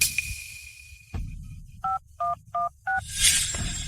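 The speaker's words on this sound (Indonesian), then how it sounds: "Jason, ayo telepon 911" A telephone keypad dials 911: four evenly spaced DTMF beeps, clear and close, after a faint hum and a click, with a brief noisy burst at the end.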